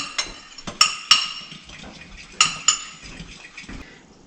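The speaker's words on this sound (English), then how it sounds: "Whisking this together." Cinnamon bun ingredients are whisked in a bowl, with a few sharp metallic taps and clinks against the sides over a soft, uneven stirring swish.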